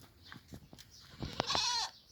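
Goats and young kids bleat in a series of short, close calls, one longer wavering bleat near the end, among dairy goats kept for milk and meat on a farm in Sokuluk, Chüy region.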